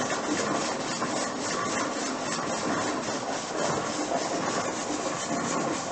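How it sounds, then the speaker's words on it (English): A pressure canner processing cold-packed beef stew gives off a constant rattling jiggle as its weight knocks against the vent pipe, a steady loud close hiss and clatter with no talking. "like you hear that noise, like it's hitting off the vent pipe"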